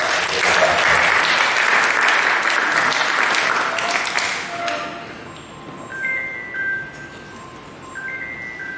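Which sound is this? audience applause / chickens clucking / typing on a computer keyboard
audience applause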